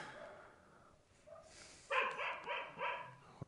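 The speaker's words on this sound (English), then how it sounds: "Am I upsetting the dog?" A dog gives a few quick, fairly faint barks and yips in a quiet indoor space, sounding three or four times in a short burst.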